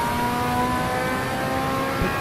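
A race car engine in the racing game Assetto Corsa Evo, running low on fuel, holds a steady, close, high-revving drone for about two seconds, with no talking over it.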